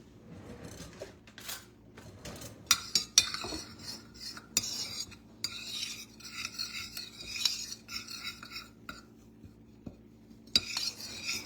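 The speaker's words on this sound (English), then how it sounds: "we're mixing all this up, the dry ingredients" A utensil stirs dry biscuit ingredients and seasoning, including oregano, in a bowl for gluten-free garlic cheese biscuits. Soft, irregular clinks and scrapes come in short bursts, close but faint.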